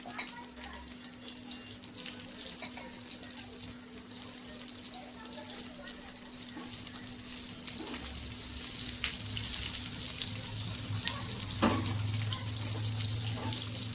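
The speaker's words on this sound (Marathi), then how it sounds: "सर्वात आधी आपण आता हे बारीक कट केलेले कारले होते ते फ्राय करून घेऊया" Finely chopped bitter gourd fries in oil for a karela bhaji, a faint, steady hissing crackle that builds slightly over time, with a voice talking quietly in the background.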